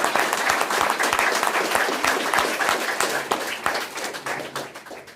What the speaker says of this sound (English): Give him a round of applause, guys, from 48 Hours Time